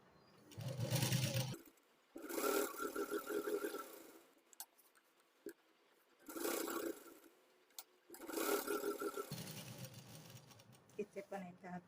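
A sewing machine stitches lining fabric in several loud bursts of rapid mechanical whirring, broken by short quiet pauses and a few isolated clicks as the cloth is turned.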